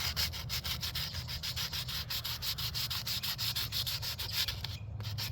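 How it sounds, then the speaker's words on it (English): Sandpaper rubbed by hand over an Estes Star Orbiter model rocket, a steady close scratchy rasp in quick back-and-forth strokes with no talking. "Might have to invest in some more flexible type sandpaper that's meant for contouring and getting in the hard to reach places."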